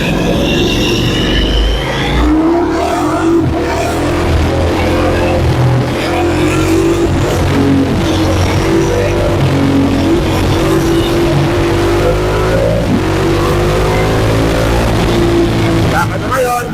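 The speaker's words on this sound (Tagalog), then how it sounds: "So traffic." Road traffic on a Saturday street in Marikina, with many cars engines droning and rumbling past close by throughout, while a voice talks over the noise.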